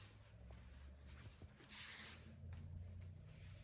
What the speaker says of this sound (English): I'm going to finish her off with the Kenra Platinum Finishing Spray 26